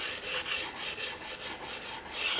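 Small sanding block, identified as a Gator Micro Zip, rasping along plywood edges in quick back-and-forth strokes, close and steady with a gritty scratch on each pass and no talk.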